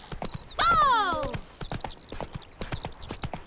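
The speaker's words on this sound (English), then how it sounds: "Whoa there, Roach" Horse hooves clip-clop steadily in The Witcher 3 video game, with a loud neigh near the start and game dialogue and voices talking over the hoofbeats.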